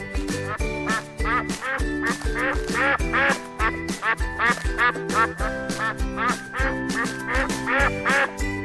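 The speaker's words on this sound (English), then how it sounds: "Duck." A duck quacks over and over in loud, nasal bursts at a quick, even pace, close up and without speech, over a rhythmic musical backing.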